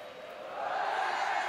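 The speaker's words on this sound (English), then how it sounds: "And now the home crowd is full of voice." A stadium crowd in the rugby video game Rugby 18 roars, a steady, swelling wall of cheering voices that grows louder over a brief moment.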